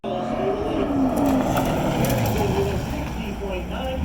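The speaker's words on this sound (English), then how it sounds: "this is a C5 Corvette. So let's take a picture of him coming through the finish" A C5 Corvette, a 2004, runs through the finish of an SCCA autocross event, its engine note rising and falling in clear sweeps at moderate distance while a voice talks over it.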